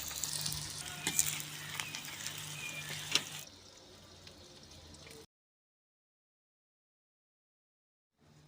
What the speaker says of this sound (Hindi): प्याज को फ्राई कर रहे हैं हम